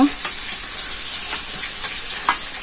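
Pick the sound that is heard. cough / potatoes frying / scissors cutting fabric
potatoes frying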